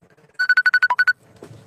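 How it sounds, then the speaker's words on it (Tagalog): A cellphone ringtone rings loudly and close, a rapid burst of about nine evenly spaced electronic tones, followed by a faint low murmur. "Tsaka naman ang tumatawag."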